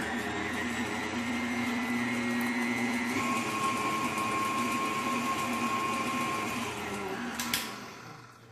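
Electric mixer whirring through waffle batter for Belgian waffles, a steady motor hum that shifts pitch partway through as the speed changes, then clicks off and winds down near the end.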